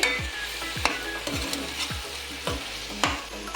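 Capsicum and potato roast in a pan for a Malnad egg dish. Steady sizzling is broken by regular spatula scrapes about every half second, close and clear, with no talking.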